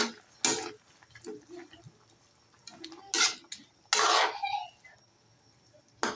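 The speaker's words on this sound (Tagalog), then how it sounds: "Lagyan na rin po natin siya ng ketchup. Tapos halo-haloin po natin." Chicken with ketchup being stirred in a pan, with several loud utensil scrapes and clanks against the pan at irregular intervals, close and alone between quieter gaps.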